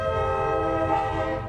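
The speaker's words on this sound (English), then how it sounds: "Hey train, honk horn" A loud, sustained train horn blares in a video game, one continuous chordal honk that holds steady for well over a second before easing slightly. No voices are heard.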